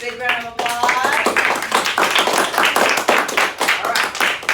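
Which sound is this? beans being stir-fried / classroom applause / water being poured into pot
classroom applause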